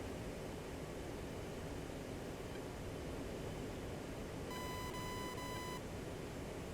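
Cockpit warning tone in the DCS World flight simulator, a steady electronic beep sounding for about a second over constant loud engine and wind noise.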